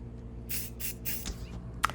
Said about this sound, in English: I don't spray the texturizer too closely to the metal.